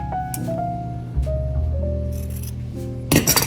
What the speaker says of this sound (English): So we're gonna cut a piece for that.